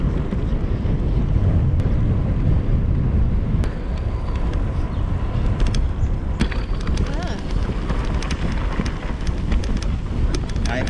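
A strong crosswind buffets the microphone on a bike ride near wind farms, a loud, continuous low roaring rumble with gusty fluctuations throughout.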